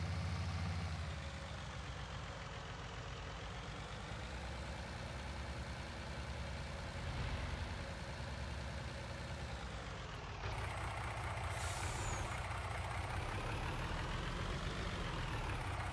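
A low loader truck in Landwirtschafts-Simulator 2019 drives with a steady, droning diesel engine hum, shifting pitch slightly as it moves, continuous and fairly quiet throughout.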